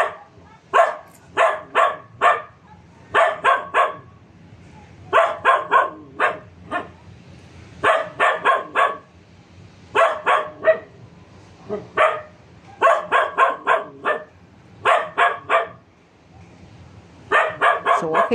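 A dog barks loudly at night in a cemetery, standing on a grave, firing off quick bursts of three to five sharp barks in a steady repeating pattern with brief pauses between, close and alone with no talk.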